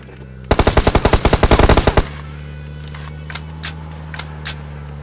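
A loud rapid burst of automatic gunfire lasting about a second and a half, followed by a few quieter clicks and taps over a low hum.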